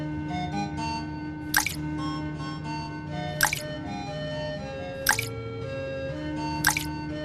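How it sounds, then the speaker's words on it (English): Small garden stones drop one at a time into a water-filled pitcher, four separate wet plops spaced a couple of seconds apart, each short and crisp over a soft musical backdrop. "He went and picked up one stone at a time and put it in the pitcher."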